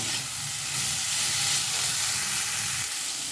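Spiced bottle gourd greens fry in a pan with a dense, steady hiss and sizzle that holds close and even throughout.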